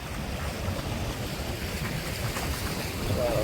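Sea waves wash onto coastal rocks in a loud, continuous roar mixed with wind buffeting the microphone, swelling slightly toward the end.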